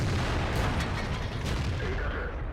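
Tank cannon fire in World of Tanks from an A-44 aimed at a Type 58 tank, a steady dense roar of battle noise with thuddy low rumble throughout, no speech over it.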